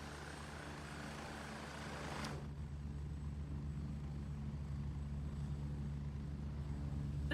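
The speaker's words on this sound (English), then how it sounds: "this helicopter sounds like it's fucking right on top of us" A helicopter in a video game drones steadily with a low, continuous rotor rumble that swells slightly partway through, sounding close overhead but fairly quiet overall.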